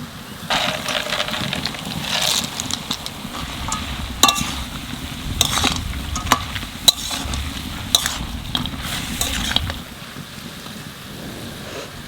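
Dried lentil dumplings go into a pan of cooking banana stem, giving a steady sizzle with repeated scraping stir strokes and short clatters throughout, close and moderately loud, fading quieter near the end.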